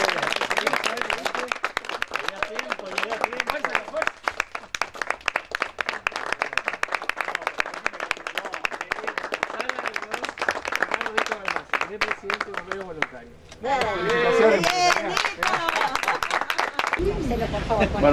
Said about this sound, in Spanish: con un aplauso vamos a descubrir la plaza